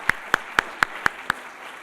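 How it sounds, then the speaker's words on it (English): A few sharp, evenly spaced claps ring out close and clear, six in quick succession, for a guest curator from the National Museum for Women in the Arts in DC at a talk on Dutch art, then fade into quiet room tone. "So let's give a round of applause for making the journey from DC."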